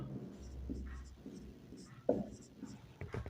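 Pen writing on paper during a Hindi math lesson on circles, a soft scratchy scrawl running close and quiet through the clip, with a teacher's voice and short pauses around it.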